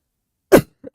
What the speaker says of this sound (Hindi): यार खांसी तगड़ी वाली आ रही है।